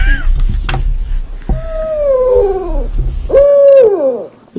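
A voice imitates an owl with two long, wavering hoots, sliding up then down in pitch, loud and close, with a low rumble underneath at first.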